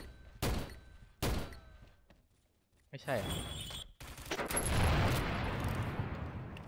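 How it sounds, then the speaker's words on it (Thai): In the shooter game XSHOT, explosion effects go off as sharp bursts, two isolated blasts followed by a dense roaring barrage, while a player talks briefly between them. "เอฟเฟกต์การระเบิด"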